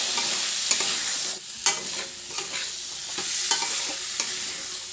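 Peeled potatoes frying in hot oil in a pan for a potato paneer curry, a strong, even sizzle running throughout, broken by repeated spatula scrapes and a few sharper clacks, close by with no speech.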